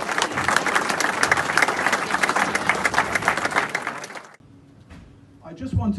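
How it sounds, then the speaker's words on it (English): A crowd at a football club presentation bursts into loud, sustained applause for about four seconds, with dense clapping that suddenly stops and gives way to near quiet. "So put your hands together for Ian Cooke."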